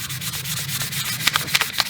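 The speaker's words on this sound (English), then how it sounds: "take a bit of fine sandpaper, look for any little rough areas like that" Fine sandpaper rubbing back and forth along a wooden axe handle, a steady close scratchy sanding with a few sharper strokes toward the end, heard alone.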